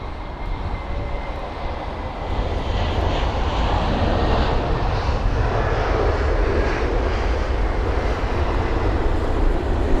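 A Tarom Airbus A318 arrives at London Heathrow, its jet engines making a steady, broad roar that swells slightly and then holds loud and close for the full length, with no talking.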